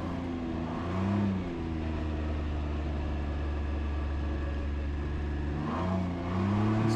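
A 2021 Can-Am Ryker 900 ACE three-wheeler in Eco mode holds a steady engine drone, with two gentle throttle swells near the start and the end. It is recorded on board at moderate loudness, with no talk.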